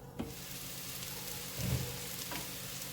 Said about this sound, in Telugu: ఒక్క 2 మినిట్స్ ఇలా ఫ్రై అయితే బాగుంటుందండి